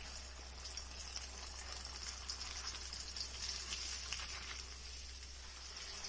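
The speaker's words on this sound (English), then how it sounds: "I have finished frying the salmon" Salmon pieces deep frying in hot oil, giving a steady close bubbling sizzle with fine crackle that holds even throughout, no voices.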